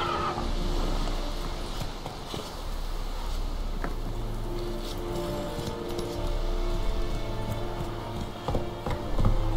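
Horse hooves clip-clop steadily with occasional whinnies over a constant low rumble and faint clinking, in The Witcher 3: Wild Hunt.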